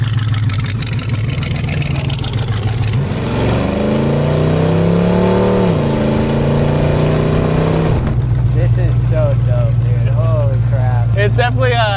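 1924 Dodge Brothers hot rod engine droning while driving, rising through revs as it accelerates, then steady rumble with a voice talking over it near the end.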